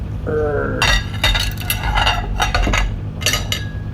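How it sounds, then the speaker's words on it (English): Dishes being washed, with plates, cutlery and glassware clinking and chinking in quick irregular bursts over a steady wash of running-water noise, close by. "while I do the dishes"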